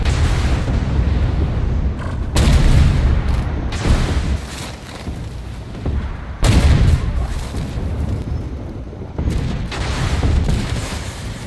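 Heavy 120mm tank gun fire in the video game Armored Warfare, with loud booming shots at about 2.4, 6.5 and 9.3 seconds over a constant low rumble of the tank engine.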